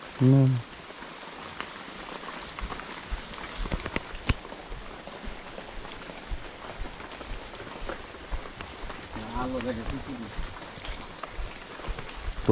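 Rain falls at night in rural Bangladesh during traditional fishing, a faint, continuous patter with scattered drips and knocks, and a few short bursts of nearby voices at the start and toward the end.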